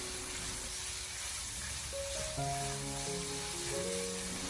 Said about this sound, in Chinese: 油热之后，将五花肉放进锅中，用小火将它煸炒一下，把五花肉煸炒至变色